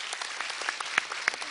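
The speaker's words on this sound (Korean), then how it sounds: "여러분 박수 부탁드리겠습니다." Scattered audience applause at a Daegu citizens' roundtable meeting, fairly quiet and thin, with a few sharper claps standing out over a short burst.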